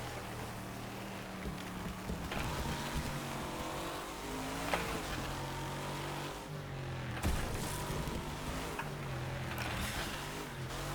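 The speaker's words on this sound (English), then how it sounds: "Drifting." Car engine in the racing game Wreckfest, held at a steady drone with shifting pitch and a brief rise near the middle, suggesting drifting through a long slide; continuous and fairly close with no talking.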